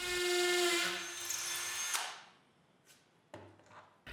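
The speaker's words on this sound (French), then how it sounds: "Comme une des perceuses à la percussion, je l'essaye tout de suite." A Maximum hammer drill from Canadian Tire whines loudly with a high pitched motor, spins down after about two seconds, then gives a couple of short, fainter bursts.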